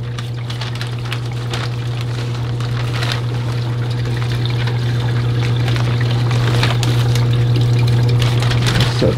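Water poured steadily to soak a potted plant sitting in a drip pool, a continuous loud splashing and trickling with a constant low hum underneath that builds slightly over several seconds.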